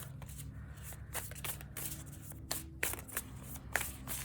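Tarot cards are shuffled by hand in a quiet room, a rapid series of soft riffling bursts and light slaps repeating in quick rhythm, close and fairly faint over a low background hum.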